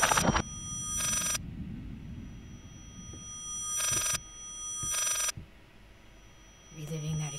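A telephone rings in the horror video game Layers of Fear, in three loud, buzzy bursts spaced a couple of seconds apart over a low, rumbling ambient bed, with a voice talking briefly at the end.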